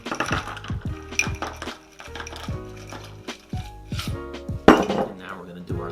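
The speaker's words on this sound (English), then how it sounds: "We're gonna add our ice." Ice clatters into a metal cocktail shaker while eggnog is being mixed, a run of clinks and rattles with several sharp knocks and a louder clunk near the end, close by, with people talking softly underneath.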